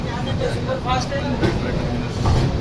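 A continuous rumbling ride inside a moving train leaving Bandra, Mumbai, broad and steady, with people talking over the noise.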